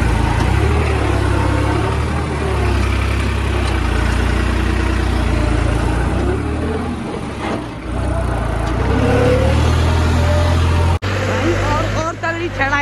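An Eicher 1991 model tractor pulls a trolley loaded with 210 sacks out of a field toward a steep climb, its engine droning loudly and continuously with a low throb, a sharp cut near the end.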